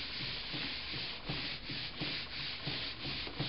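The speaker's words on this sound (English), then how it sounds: "I'm going to rub" Paper being rubbed by hand against the back of a sheet laid on a fresh print in an elementary printmaking demonstration, a steady close scraping swish repeating in even back-and-forth strokes with no talking.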